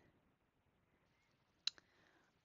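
Computer mouse clicked in a quiet room, a single crisp close click followed by a softer second tick, alone against faint background hiss.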